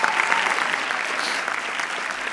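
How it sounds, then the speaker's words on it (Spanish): An audience at a theatre-spectator school session applauds warmly, a dense steady clapping that holds loud and close before easing slightly toward the end, with no speech over it. "Les pido un gran aplauso para Silvia de Bona."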